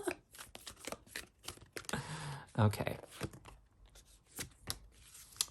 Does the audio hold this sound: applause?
no